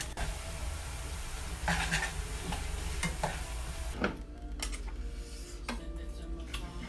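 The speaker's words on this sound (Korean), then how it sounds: "배가 고파 라면을 끓여 먹는데" Ramen being cooked in a pot, a steady close bubbling sizzle with intermittent clinks and stirring knocks of utensils against the cookware, no voices.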